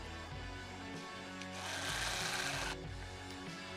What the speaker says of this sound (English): when you're screwing in pocket screws, it's always nice to keep it all together with a clamp